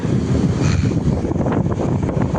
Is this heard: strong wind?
yes